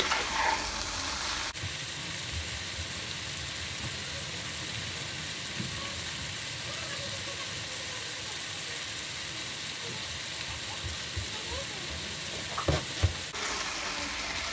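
Chicken fajita mix with tomato sizzles and fries steadily in a pan, a continuous close crackling hiss with occasional stirring scrapes and a couple of utensil clicks near the end.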